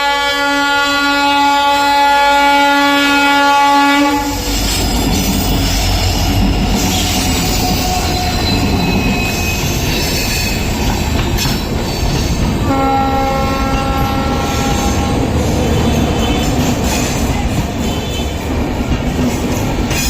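A train rolls through an unmanned railway crossing in India, its loud horn blaring at the start and again midway over a continuous heavy rumble of wheels and cars passing close by.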